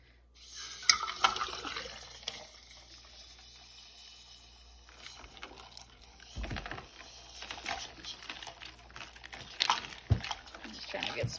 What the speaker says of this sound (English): I'm just trying to get some more water inside there.